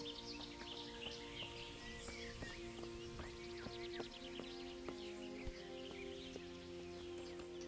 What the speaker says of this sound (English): I love the sound of the birds in this game